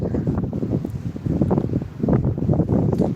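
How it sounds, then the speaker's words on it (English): Gusty coastal wind buffeting the microphone at the Porthcawl rock pools, a steady rumbling roar that swells and surges in uneven gusts, close and fairly loud, with no talking. "Wind always makes it colder, and it's always windy down on the coast anyway."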